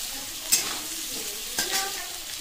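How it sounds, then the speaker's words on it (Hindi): Jackfruit pieces seasoned with turmeric and salt fry in a pan with a soft, continuous sizzle, punctuated by two sharp stirring scrapes. "अब इसको फ्राई कर लेते हैं।"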